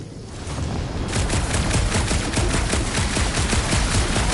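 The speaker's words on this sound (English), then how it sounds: "Shooting your way out of every problem again, Peter?" Rapid automatic gunfire in the Guardians of the Galaxy video game, a dense burst of repeated shots that starts after a brief moment and continues loud and unbroken.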